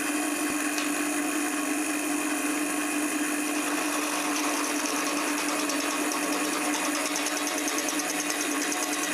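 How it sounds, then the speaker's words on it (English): Roughing gouge cutting a spinning wood blank on a lathe while turning a French rolling pin, a steady dense whirring scrape that runs unbroken and fairly loud throughout, with no speech. "I'm going to use my roughing gouge here."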